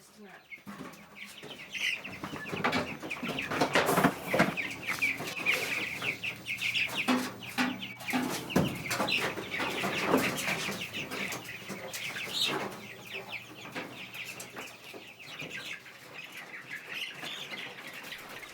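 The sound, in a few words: chickens clucking in a chicken coop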